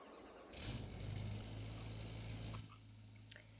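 A 2020 GMC AT4 Duramax diesel pickup, DPF-deleted with the factory exhaust tip, cranks and fires in Farming Simulator 22, rumbling up loudly for about two seconds before settling to a quieter idle.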